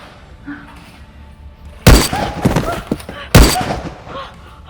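Gunfire in a video game bursts out in two loud volleys with sharp, echoing reports, over quieter game ambience.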